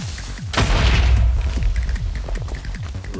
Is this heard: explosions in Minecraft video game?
yes